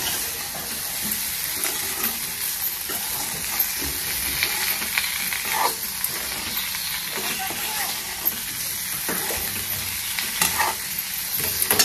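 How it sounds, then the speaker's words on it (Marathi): Dry Maharashtrian-style potato vegetable being stirred in a pan with salt, a steady scraping and stirring over continuous sizzling frying noise for the whole stretch, close and fairly loud, no talking. "आता पूर्ण सगळं भाजी आपल्याला हलवून घ्यायचं आहे"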